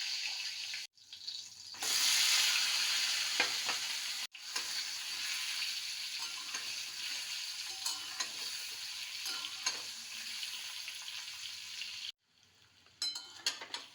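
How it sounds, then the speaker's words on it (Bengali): Boiled potatoes fry with turmeric in mustard oil in a karahi, a bright crackling sizzle with scattered spatula scrapes, briefly cutting out twice and fading near the end. "আমি সেদ্ধ করে রাখা আলুগুলো ভেজে নেওয়ার জন্য প্রথমে একটু কড়াইতে হলুদ দিলাম।"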